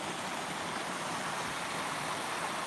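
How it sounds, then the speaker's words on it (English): Steady broadband rush of water from a man-made waterfall built from stone walls, close and continuous, with no voices over it. "Looks like it's man-made, that waterfall."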